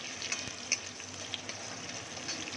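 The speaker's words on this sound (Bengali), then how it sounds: "এবারে এর মধ্যে আমি দিয়ে দেবো ক্যাপসিকাম এবং ক্যাপসিকামটা একটু একবার এদিক ওদিক নেড়ে" Capsicum sizzling in a pan with ginger and garlic, a soft steady frying hiss with a few light stirring clicks, fairly quiet and with no talking.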